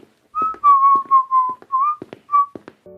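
A man whistles a lively tune, alone and fairly close, as he walks into a house late at night; the melodic phrases come in short bursts with small pauses and faint footstep-like knocks between them.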